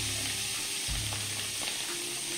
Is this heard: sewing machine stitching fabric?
no